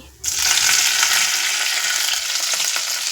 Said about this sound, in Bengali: তেল গরম হয়ে গেছে আমি দিয়েছি গোটা জিরে ফোড়ন